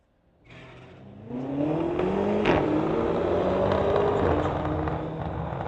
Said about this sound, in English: We've got a Lexus and a BMW up to the line.